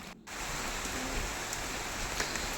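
Heavy rain pours steadily over a vegetable garden, a dense, even hiss of drops that fills the whole clip after a brief lull at the very start, with no voices.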